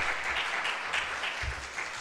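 Continuous applause from an audience at a university graduation session in a political science faculty, steady dense clapping throughout with no talking.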